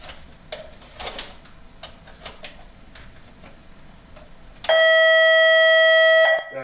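An electronic device sounds a loud, sustained steady beep alarm lasting about two seconds after its paper feed is hooked in backwards, preceded by quiet clicks and handling noises.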